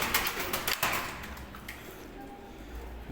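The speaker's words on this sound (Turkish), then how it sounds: "Gördüğünüz gibi burada İngiltere'nin kuşları var işte." English fancy pigeons in an aviary make soft cooing and rustling sounds, with busy bursts of wing flapping and shuffling near at the start that settle into quieter low calls.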